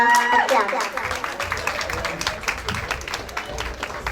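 An audience at a Derby Diwali lights switch-on applauding after a dance performance, a steady wash of many hands clapping that continues throughout, with a voice over a loudspeaker talking above it.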